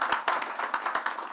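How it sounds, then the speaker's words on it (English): A few scattered handclaps from an audience at a Nigerian Breweries Plc rights issue presentation, sparse and uneven rather than a full ovation, close and moderately loud. "I think they deserve a round of applause."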